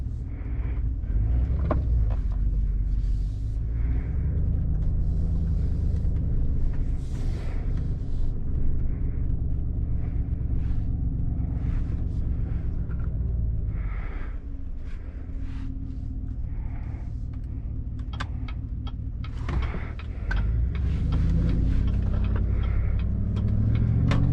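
Steady interior road noise from a car cruising, with a constant low engine and tire rumble that dips briefly twice before resuming; AFM/DFM cylinder deactivation has been disabled on this vehicle.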